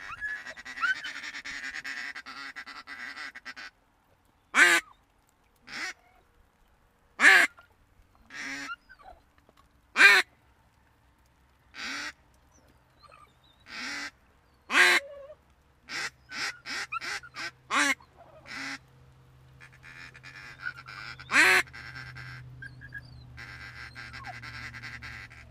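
Loud, sharp mallard duck quacks and calls burst out one after another in an irregular series, with quieter chatter and a low background hum between them, during a late-season hunt.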